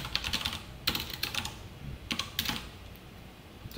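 Quick bursts of key clicks on a computer keyboard, including a Ctrl+1 shortcut, come in short clustered runs with brief pauses between them, fairly close and steady with no talking.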